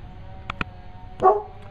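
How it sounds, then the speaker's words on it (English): A dog barks a few short times from a little distance, two quick yips followed by a louder single bark over a quiet background. "my dog's barking like a moron"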